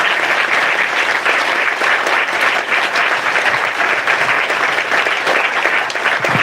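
A worship congregation claps loudly and continuously, a dense steady roar of applause with no pauses.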